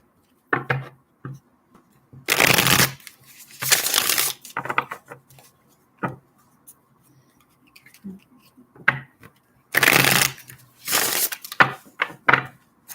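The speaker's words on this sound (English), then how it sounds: "I like to shuffle on camera." Tarot cards being shuffled in several sharp, crackling riffles, close by, separated by quieter taps and handling sounds, with no talking.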